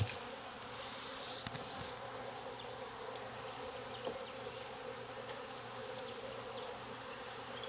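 Honey bees buzzing around a queen cell starter hive in Jacksonville, Florida, a dense, continuous close-up drone with small swells as individual bees pass near.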